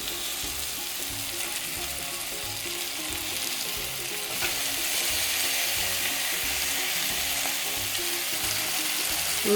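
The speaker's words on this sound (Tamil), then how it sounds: "இனி நான் மீனை போட போகிறேன்." Fish pieces going into a pan of cooked-down tomato for fish curry, with a steady close sizzle and frying crackle that grows slightly louder midway, alone without voices.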